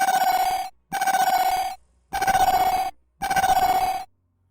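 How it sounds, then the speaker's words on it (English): A phone alarm rings in four evenly spaced electronic bursts, each about a second long with short gaps of silence between, loud and near with no voices. "The alarm on his phone went off."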